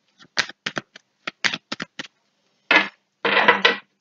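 Tarot cards are shuffled and drawn by hand, a series of short crisp slaps and riffles close up, followed by two longer rustling shuffle bursts in otherwise quiet surroundings.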